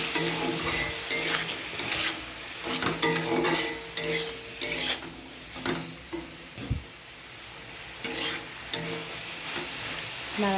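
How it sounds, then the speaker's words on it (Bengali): Salt, turmeric and chili are stirred in a frying pan, a soft sizzle running throughout beneath repeated scraping of the utensil against the pan, quiet and close with uneven strokes. "নাড়াচাড়া করে নুন হলুদটাকে পুরো মিশিয়ে নিয়েছি।"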